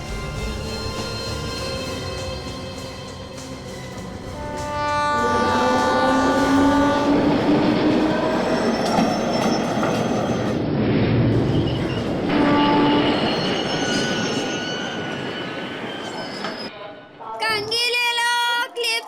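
A train rolls through a railway station, a loud, sustained rumble with clattering wheels and squealing, tonal horn-like notes, building and holding for many seconds before cutting off abruptly.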